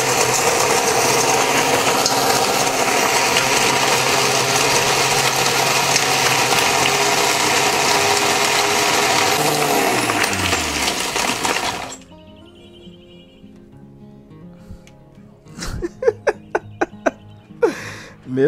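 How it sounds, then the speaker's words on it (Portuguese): A powerful crusher grinds large, heavy pieces of dry charcoal with a loud, dense, continuous roar that cuts off abruptly, followed by quieter rattling and a few sharp knocks. "Eu vou triturar agora para vocês verem"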